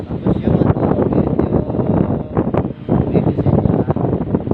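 A homemade electric fan blower built from a washing machine motor pushes a loud, continuous rush of air that buffets the microphone in uneven gusts, close and strong throughout.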